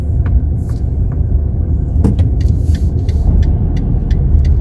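A car rolls downhill on a road at Ponta de São Lourenço, Madeira, a steady close low rumble of engine and tyres with a few light clicks and rattles over the top.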